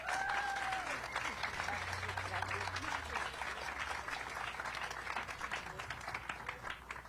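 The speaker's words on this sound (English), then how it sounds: "Round of applause." Audience applause at a ribbon-cutting for a family health and birth center, steady, fairly faint clapping from a crowd that continues evenly, with some murmuring underneath.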